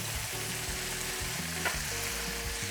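Green bell peppers fry in a hot wok with a loud, continuous sizzle, close and steady for the whole stretch with no talking.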